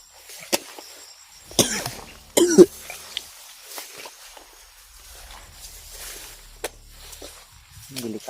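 Several sharp coughs from a person outdoors on a rainy day, spaced irregularly over a quiet background with faint footsteps and rustling.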